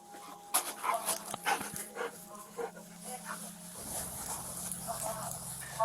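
A cadaver search dog gives soft whimpers and panting nearby during a body search, over a low steady background hum.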